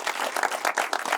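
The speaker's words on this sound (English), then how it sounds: "let's all give Nitin a round of applause" An audience applauds a speaker at a fireside chat, steady dense clapping filling the whole moment at moderate loudness with no voices over it.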